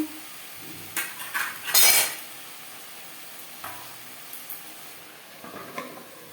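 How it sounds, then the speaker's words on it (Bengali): Pumpkin pieces stirred with salt and turmeric in a pan, a few scraping clinks of a utensil against metal early on over a faint low sizzle, then quiet. "লবণ হলুদ কুমড়োর সাথে ভালো করে মিক্স করে দেবো"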